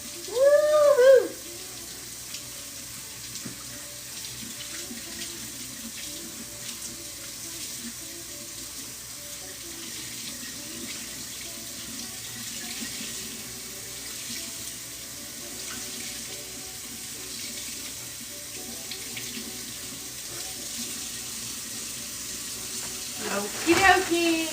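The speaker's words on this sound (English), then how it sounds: "Rinsing out the shirts." Tap water runs steadily into a sink while tie-dyed shirts are rinsed under it, a continuous moderate splashing hiss with brief louder handling at the start and end.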